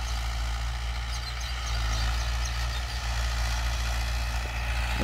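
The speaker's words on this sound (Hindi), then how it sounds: "और साउंड देख सकते हो ट्रैक्टर कितना गजब कर रहा है" Old Mahindra 575 DI tractor engine running at a steady, loud, low idle rumble, close by and alone with no talk.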